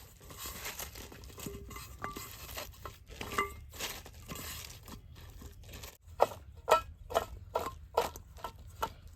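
Thinly sliced taro stems being mixed with household salt by hand, wet crunching and crinkling squelches in an irregular rhythm that grows into sharper, louder squeezes toward the end, close up, with no talking.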